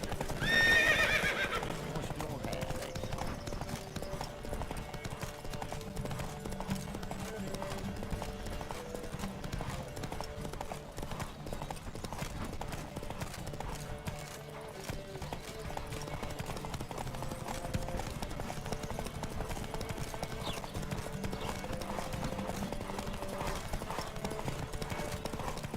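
A horse gallops in a race in The Witcher 3, rhythmic hoofbeats running continuously under game music, with a whinny near the start.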